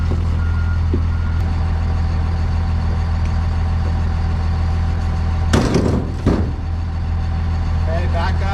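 A steel delivery truck backs up in winter snow, its steady reversing beeps repeating over a loud idling engine throughout, with a brief clatter or rumble midway.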